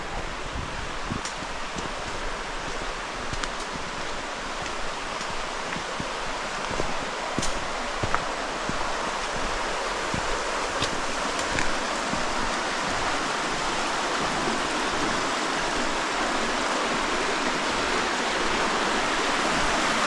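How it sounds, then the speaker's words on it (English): Stream water flowing steadily at a river crossing with a small bridge on the Ingleton waterfall trail, a continuous broadband rush heard close and even throughout, with no talking. "we're coming up to the first river crossing"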